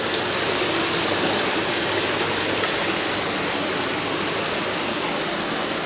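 Steady rushing water pouring continuously, a dense broadband hiss with no breaks or voices, close and loud throughout.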